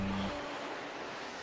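Sea waves washing below a seaside temple in Busan, a brief steady surf wash with a low engine-like hum at the very start, no voices.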